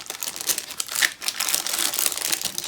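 Plastic bags holding Flyhawk 1/700 HMS Lively model kit parts crinkle as they are handled, a close, continuous rustling crackle with no talk.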